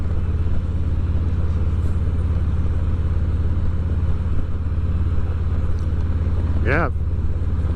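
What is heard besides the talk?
2019 Harley-Davidson Ultra Classic motorcycle cruising at 55 mph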